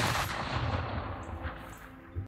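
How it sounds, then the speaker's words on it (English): Gunfire in a video game, a dense, loud burst of blasts that fills the whole moment and fades slightly before one final sharp crack, with no talk. "So is he only shooting one shot at a time?"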